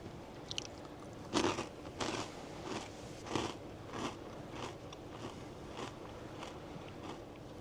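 Close, crisp crunching of a snack being chewed, a series of irregular bites and munches, loudest at first, then quieter, with no talking.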